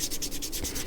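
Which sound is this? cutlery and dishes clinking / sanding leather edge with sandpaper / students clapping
sanding leather edge with sandpaper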